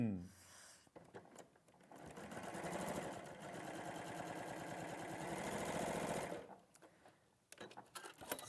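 An industrial-style sewing machine stitches fabric at an angle, a steady rapid mechanical whirring and clatter running for several seconds, close and fairly loud, with brief handling noises before and after and faint talk nearby.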